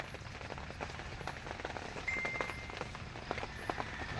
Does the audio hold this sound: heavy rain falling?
yes